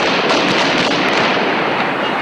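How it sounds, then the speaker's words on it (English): Loud, dense crackle of gunfire on the streets of Gaza during Palestinian infighting, a continuous roar of rapid pops and bursts with no break and no voices. "Palestinian infighting erupts in gunfire on the streets of Gaza"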